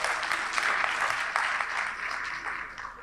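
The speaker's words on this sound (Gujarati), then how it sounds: "એકવાર જોરદાર તાળી સાથે એમને આવકારીએ" Audience applause welcoming Padma Shri Devendra Patel at an indoor public talk, a dense, steady round of clapping from many hands, held at a moderate level and easing slightly near the end.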